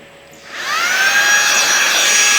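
A handheld electric blower with a long nozzle spins up and blows lint out of a sewing machine, a loud rising whoosh settling into a steady airy roar, close and alone.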